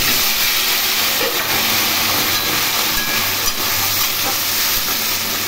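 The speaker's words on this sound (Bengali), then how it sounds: "এগুলো একটু ভালো করে লাল করে ভেজে নেব।" Potato and taro pieces fry in hot oil for a Bengali curry, a loud, continuous dense sizzling hiss that holds steady throughout.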